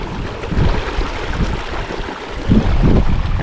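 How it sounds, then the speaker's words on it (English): Small waterfalls on the Eagle Rock hike give a steady, close rushing wash of flowing water with gusts of wind buffeting the microphone and no voices. "little mini waterfalls here."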